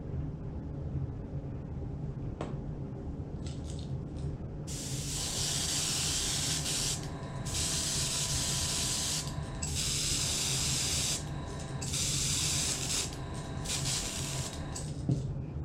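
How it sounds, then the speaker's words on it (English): Gloss varnish is sprayed from an aerosol can onto a lipless fishing lure in several loud hissing bursts of two to three seconds each, separated by short pauses, after a quiet stretch with light handling clicks. "Gloss varnish for the win."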